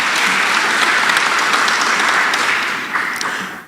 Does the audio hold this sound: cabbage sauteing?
no